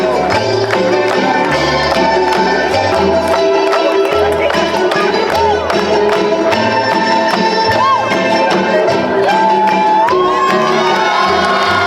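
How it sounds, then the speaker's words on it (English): Dense crowd at a legislative day rally cheering, whooping and shouting loudly and continuously, with bright bursts of voices over a steady roar and music-like tones running underneath. "Everybody clap!"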